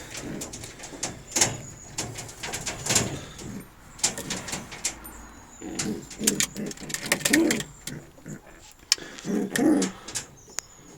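Soft, low cooing of sport pigeons in a metal loft surfaces a few times amid rustling and light clattering, fairly close, with no talking.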